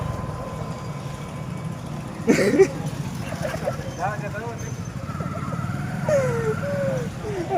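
A motorcycle stopped in mud runs with a steady low engine drone throughout, heard under people talking nearby.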